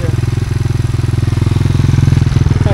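A Loncine 110/125 motorcycle engine with a new exhaust fitted, running close and loud with a rapid, even throbbing exhaust pulse that rises slightly in pace as it is revved.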